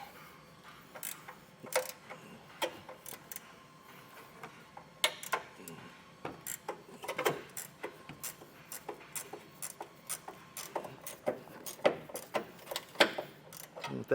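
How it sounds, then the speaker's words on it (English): A 15mm ratcheting wrench loosens the tow hook bolts on a truck, giving repeated short bursts of clicking from under the vehicle with brief pauses between strokes, moderately quiet against a low background. "with a 15mm ratcheting wrench, I'm going from the back side or underneath here, and I'm going to go ahead and get this loosened up"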